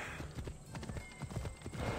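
Rapid hoofbeats from a galloping horse in the video game Assassin's Creed Odyssey, a quick, close clip-clop rhythm with no talk.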